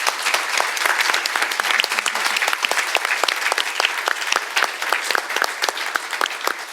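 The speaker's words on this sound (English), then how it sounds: "let's give our speakers one more round of applause." Audience at an artist talk on emancipation gives the speakers a round of applause: moderate, fairly sparse clapping with distinct individual claps, steady throughout.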